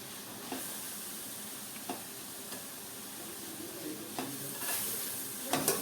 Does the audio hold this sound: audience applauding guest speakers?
no